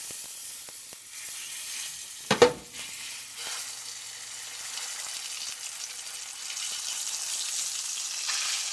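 A breaded pork chop frying in a pan gives a steady hiss and sizzle, with a brief clatter and scrape early on, then a continuous crackle that swells slightly toward the end.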